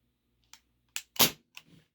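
A Ruger P345 airsoft pistol fires a single sharp snap, with a few softer mechanical clicks just before and after, close and isolated in a quiet room.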